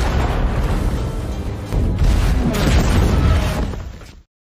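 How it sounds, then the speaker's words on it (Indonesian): An aircraft carrier blowing up in a war film: loud, sustained booming explosion with deep rumbling blasts and crackling debris, building over several seconds before cutting to silence. "Tidak lama kemudian, kapal induk itu meledak."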